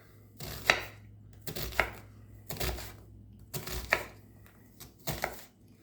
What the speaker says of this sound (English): Now, moving slow, I've diced half an onion in mere seconds.